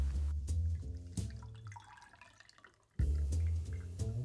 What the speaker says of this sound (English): Now that's a generous pour